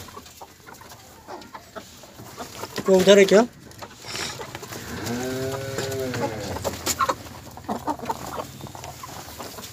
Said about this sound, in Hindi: इसको एक कड़कनाथ मुर्गे को